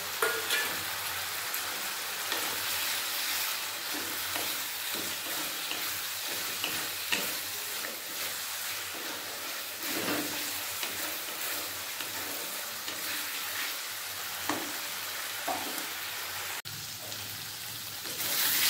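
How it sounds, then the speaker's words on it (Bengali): Potatoes frying and being stirred in a spiced masala for egg and potato curry, a steady broadband sizzle with scraping stir strokes throughout, close and moderately loud, no voices. "আলু ভালোভাবে কষিয়ে নিয়েছি।"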